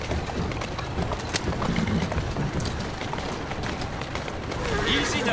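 Horse hooves clip-clop at a steady trot in Assassin's Creed Syndicate, set against a busy background wash, with people talking over the hoofbeats.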